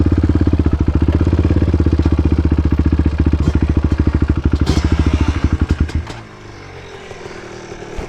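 A ported two-stroke Yamaha Blaster ATV engine revs hard and loud up close, a rapid buzzing rattle for about six seconds before dropping abruptly to a quieter idle.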